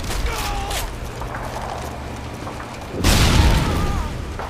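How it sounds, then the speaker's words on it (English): Grenade going off in the video game Modern Warfare 2, a loud, sudden boom partway through that rumbles and fades over about a second, following a stretch of gunfire and game noise with a player talking. "Grenade!"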